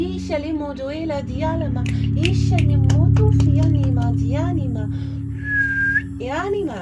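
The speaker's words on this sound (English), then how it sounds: "used to never be able to whistle" A person whistles a wandering melody of quick sliding and bending notes, loud and close, continuous for several seconds with a brief higher held tone near the end.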